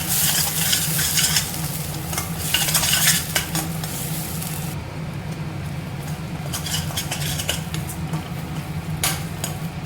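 Ingredients for coriander rice sautéing in a pan, with a constant close sizzle and frequent scraping stirs and spatula clatter against the metal, busier during the first half and then settling to a steadier fry.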